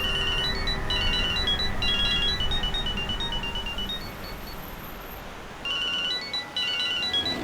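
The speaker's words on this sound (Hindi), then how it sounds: "अरे साहब, फोन बज रहा है आपका," A mobile phone rings with a repeating electronic melody, steady over a constant background hiss, pausing briefly before the tune starts again.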